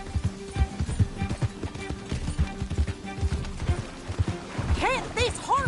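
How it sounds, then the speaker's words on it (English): A horse gallops in Red Dead Redemption 2, with rhythmic, close hoofbeats pounding steadily under other game sounds, followed near the end by a few sharp whistle-like calls. "Can't this horse go any faster?"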